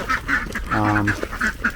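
Homestead ducks quack in quick, overlapping calls close by, some of them raspy and honking. The brief flurry of calls has no speech.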